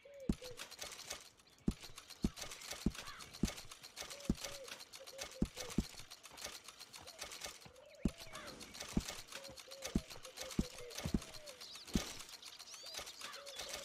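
A braided-mane horse in Red Dead Redemption 2 clip-clops at a walk. Its crisp hoof strikes fall in a steady rhythm, with soft bird chirps in the background and occasional brief tonal calls.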